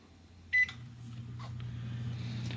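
Amazon countertop air fryer oven sounds one short electronic beep as it starts, then a quiet hum builds underneath, with a faint clatter shortly after.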